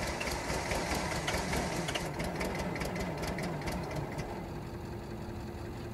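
Bobcat engine cranking and struggling through a hard cold start, a steady rough mechanical churn with rapid knocking pulses that thins slightly toward the end, close and continuous with no talk.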